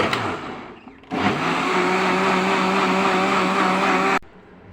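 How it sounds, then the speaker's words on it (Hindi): A kitchen blender grinds peeled tomatoes for homemade ketchup, switching on with a loud, steady motor whine that runs for about three seconds before cutting off abruptly. "अब हम इनको कर लेंगे ग्राइंड।"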